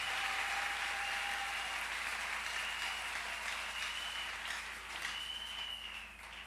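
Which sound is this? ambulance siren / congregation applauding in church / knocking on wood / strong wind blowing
congregation applauding in church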